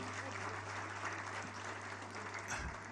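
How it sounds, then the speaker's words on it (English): Sustained applause from a crowd at a senate event, steady and soft as if heard from a distance, over a constant low electrical hum. "Let's give a round of applause to them."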